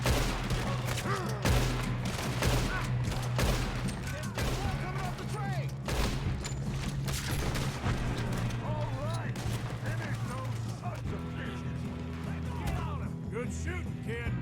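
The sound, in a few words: gunfire in the video game Red Dead Redemption 2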